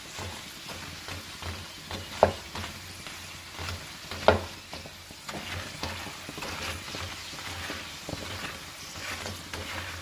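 Hollow fried meatballs (bakso goreng) being stirred in hot oil, a continuous close sizzle with scraping stirs and a few sharp clacks of the utensil against the pan, no voices.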